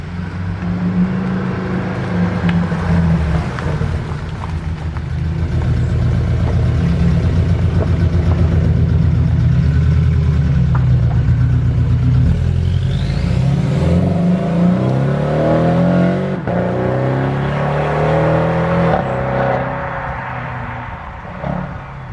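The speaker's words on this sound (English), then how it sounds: "I'm going to quickly just take it up and down the drive so you can hear the exhaust." A loud straight-piped Porsche 718 GTS exhaust idles with a deep rumble, then revs hard and roars as the car pulls away and drives off, sustained and close.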